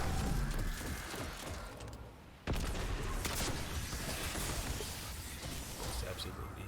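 During a Destiny boss fight, a rocket launches with a single sharp, loud blast partway through, surrounded by dense, continuous combat noise. A voice talks over the action.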